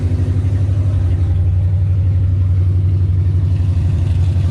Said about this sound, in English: I love to hear the sound of the engine.